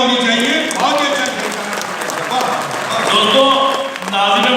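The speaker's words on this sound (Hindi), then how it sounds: "पुरजोर अंदाज में तालियां होनी चाहिए।" Audience applause at a mushaira poetry gathering, a steady wash of clapping lasting throughout with a voice speaking over it.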